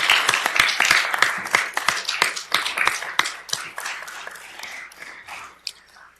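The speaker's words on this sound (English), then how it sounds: "let's give a round of applause" Applause from the room at a city council meeting, a burst of quick, close hand claps that gradually thins and fades over several seconds.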